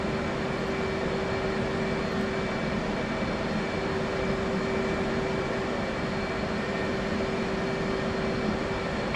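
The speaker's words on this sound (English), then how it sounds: "Starting my right engine." F/A-18C Hornet's right jet engine spooling up in DCS World: a steady, loud broadband roar with a persistent whine, continuous and without pauses throughout.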